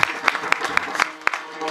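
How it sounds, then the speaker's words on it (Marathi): An audience at a Marathi kirtan claps in a quick uneven burst of roughly a dozen sharp hand claps, fairly close and loud, with crowd murmur underneath. "म्हणून ह्यांच्या पोरांसाठी एक टाळी वाजवा सगळेजण."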